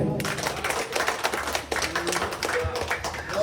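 A church congregation claps during a homily, a steady patter of many hands that fills the space for a few seconds without talk over it.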